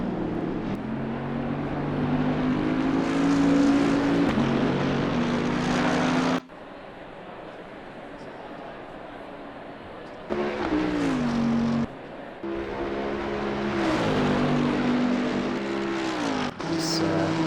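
A GT3 race car on light fuel laps the Nurburgring in Assetto Corsa Competizione, its engine screaming loud and close through rising gear pulls, broken by sudden lifts and downshifts into quieter stretches before roaring back.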